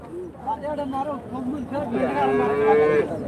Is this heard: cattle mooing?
yes